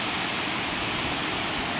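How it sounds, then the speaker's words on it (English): A waterfall in an Icelandic canyon pours in a dense, constant roar of white noise, loud and close, with no voices. "You got the waterfall on that side."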